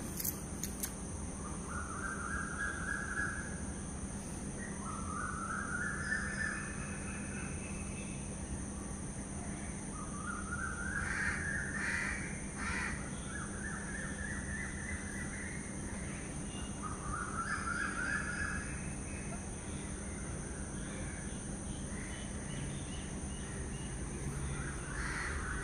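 Crows caw outdoors on a dry day, calling in short repeated bursts every few seconds across a long stretch over a constant low background hum.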